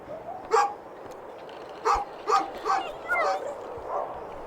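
Old Yeller, a dog in the video game A Juggler's Tale, gives several short barks and yips spaced unevenly over a steady low hum, moderately close and not very loud.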